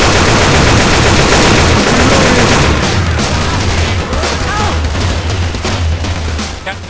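Dense, rapid automatic gunfire from a combined sniper and machine gun in the video game Left 4 Dead 2, loud and nearly continuous with overlapping shots and booms, easing slightly toward the end.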